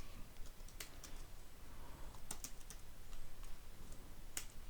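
Keystrokes on a computer keyboard while code is being written, a scattering of soft irregular taps with small bursts over a steady faint hiss, close and fairly quiet, with no voice.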